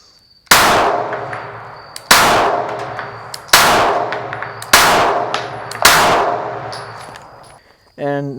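Five loud, close shots from a Springfield XD-S Mod 2 pistol come at a steady pace about a second apart, each sharp crack trailing into a long ringing decay, with a short buzzing sound at the very end.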